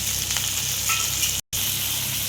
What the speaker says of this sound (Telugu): ఇప్పుడు ఈ ఆనియన్ పచ్చిమిర్చి వేసేసుకోవాలి.